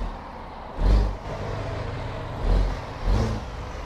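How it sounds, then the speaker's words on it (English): A Kenworth K-100E truck engine in American Truck Simulator revs in three loud, swelling surges over a lower running rumble, with no one talking. "So I do have Kreitbum's K-100 sounds."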